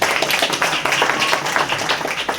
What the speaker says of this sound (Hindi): उनके लिए जोरदार तालियां हो जाए थोड़ा।